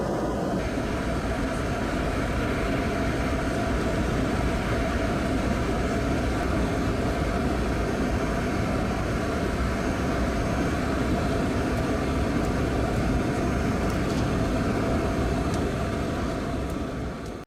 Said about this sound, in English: Passenger films. Southwest 737-700 on parallel approach.